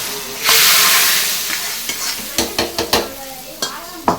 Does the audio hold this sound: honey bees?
no